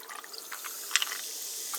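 Apricot peach sparkling water poured into a mug, a bright fizzing hiss with soft splashing, brief and close, with no talk over it.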